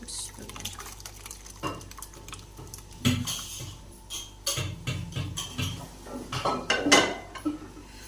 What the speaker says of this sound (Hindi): तो ये हमारा बाउल में हम इसे डिश आउट करेंगे।